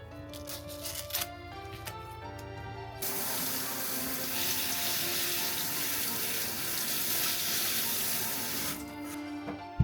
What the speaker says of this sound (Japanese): 外側の汚れている皮を剥いたらきれいに洗っておきましょう。